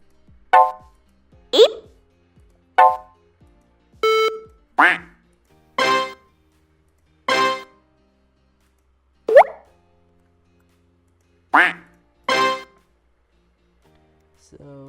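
A series of short, distinct classic Macintosh alert sounds from the Basilisk II emulator's sound control panel, beeps, quacks and blips, each played alone with silent gaps between them, about ten in all.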